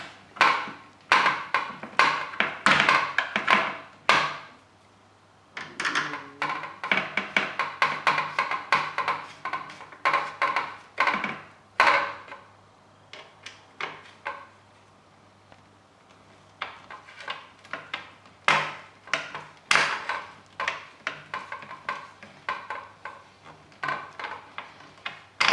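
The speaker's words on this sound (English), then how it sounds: "the screws have been fitted loosely and we need to screw those in to secure" Screws being driven by hand into a Mira electric shower element during a solenoid replacement, heard as close, irregular bursts of clicking and scraping with brief pauses and no talking.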